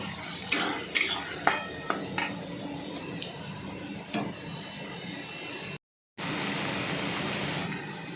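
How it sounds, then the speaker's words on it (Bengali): Taro leaves being pounded and mashed in a pan or bowl for a Bengali bhorta, a run of sharp clinks and knocks early on, then a steady scraping hiss with a brief gap of silence. "শাকটা দিয়ে আমি এখন ভালো করে মেরে নিচ্ছি"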